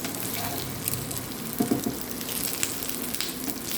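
Pieces of food fry in a pan, a steady close sizzle throughout, with a few soft knocks and clatters midway as some pieces are turned over because their other side is not yet fully cooked.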